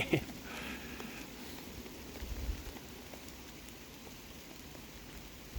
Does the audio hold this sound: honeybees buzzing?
no